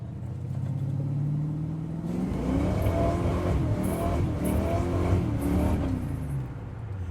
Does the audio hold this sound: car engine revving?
yes